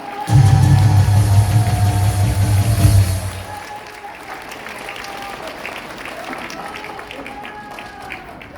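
Loud applause fills a large hall during a Christian leaders' gathering, a thick burst lasting about three seconds before fading into a lower murmur of crowd noise and scattered voices.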